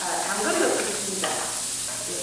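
Onions sizzling and being stirred in a pan over medium heat, a steady close frying hiss with scraping stir sounds.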